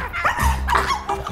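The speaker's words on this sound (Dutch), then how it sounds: "Hondjes." Dog barks and yips from an animated Dalmatian film trailer, several short close barks with whimpering tones over a musical, voice-like background.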